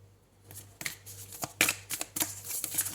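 A deck of tarot cards being shuffled up close, a string of quick papery riffles and rustling bursts that grow busier after a quiet start, with no voices over them.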